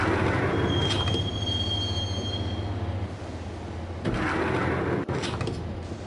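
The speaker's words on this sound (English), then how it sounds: "the train doors had already shut behind me, and I was in for the ride" A train rides toward Roscoe Street Station in the Max Payne video game, a steady loud rumble of wheels with a thin high squeal and a few clanks from the carriage.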